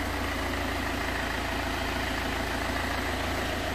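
A steady, even Citroen C5 car engine idle hums close by without a break, a low mechanical drone with no voices over it.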